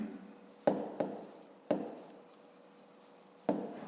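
A pen writes on paper close by, several short scratching strokes with pauses between them, quiet and alone without talk.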